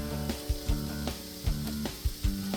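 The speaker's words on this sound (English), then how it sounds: "So we're going to let this saute a little bit, and then we'll put in our green peppers." Onions and green peppers sauté in a pan for a steady, close frying sizzle, broken by a few sharp clanks and stirring knocks. Nobody speaks.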